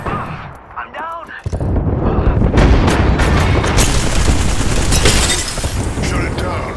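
Artillery fires in a video game battle: heavy, loud booms and rapid gunfire pound almost continuously after a brief quieter start, with voices talking over the barrage.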